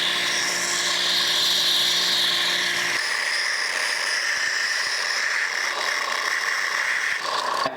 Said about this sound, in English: I'll just use the belt sander to grind the dome onto the top